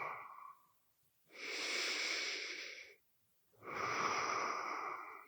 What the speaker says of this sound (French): OK, dernière grande respiration.